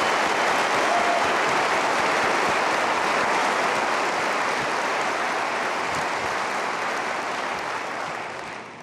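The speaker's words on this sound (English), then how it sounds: "I would please ask you to give me a great round of applause" A large keynote audience at Cisco Live 2018 gives a sustained round of applause, a dense, even wash of clapping from a big hall that holds steady for nearly nine seconds before beginning to fade.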